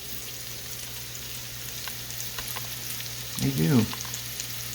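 Onions frying in a pan for smothered hamburger steak give a steady, soft sizzle throughout, with a brief voice and a slightly louder burst of activity near the end.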